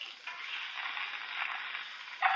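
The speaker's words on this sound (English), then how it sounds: "My onions are sounding pretty good in there." White onions sizzle steadily in hot oil in a pan, a close, continuous crackling hiss with a brief louder flare near the end and no talking.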